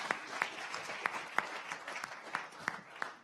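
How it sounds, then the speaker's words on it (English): A church audience on a Sunday evening gives a round of applause. The scattered claps are faint and distant, with sharper individual hand claps standing out through the short burst. "let's give Kevin and Megan a round of applause"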